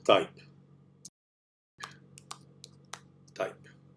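Typing on a computer keyboard, with sparse separate key clicks and a short burst of taps near the start and again near the end, quiet and close against a low background hum.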